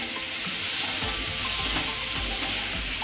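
Prawns frying with onion in a pan for a prawn bharta, giving a loud, steady sizzle and crackle that runs unbroken throughout, with no voices.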